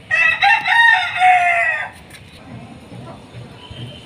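Chickens on a household rooftop farm: a rooster crows loudly and close for almost two seconds, then quieter hen clucks and faint ambient noise follow.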